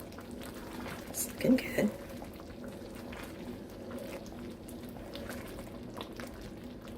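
Chili bubbles gently in a pot on a stovetop burner, a soft, steady simmering hiss with a few brief louder pops near the start. A person speaks briefly over it.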